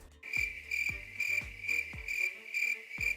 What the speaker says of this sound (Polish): takie świerszcze